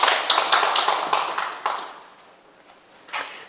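A small group of people clap briefly at a Korean Buddhist temple talk in Geumsan, a few sharp hand claps bunched together, then trailing off into near quiet before one last short burst.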